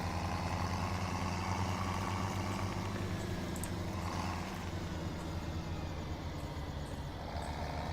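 An old tractor's engine in Farming Simulator 17 drones steadily at idle, a constant low mechanical hum with no variation or voices, loud and unbroken throughout.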